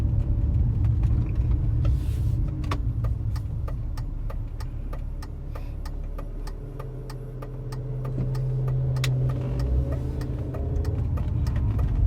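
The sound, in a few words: BMW car driving around the block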